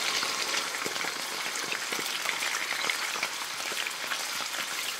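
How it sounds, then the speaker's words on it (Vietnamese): Meat pan-frying in two tablespoons of hot oil in a pan, a steady dense sizzle with crackling spits, fairly even in level and with no talking. "Dầu nóng thì mình cho thịt vào chiên."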